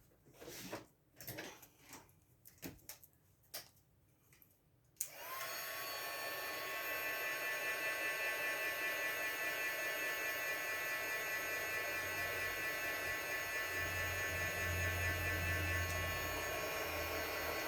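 A hair dryer blowing on glue on a Mother's Day paper flower craft: a few soft knocks, then the dryer switches on and runs as a steady loud whoosh to the end.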